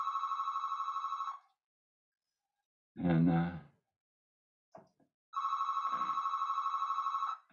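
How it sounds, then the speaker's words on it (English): A telephone bell rings in two long trilling bursts with a steady rapid pulse, separated by a pause in which a man sighs and briefly speaks during an outdoor geology talk. "just ignore the phone."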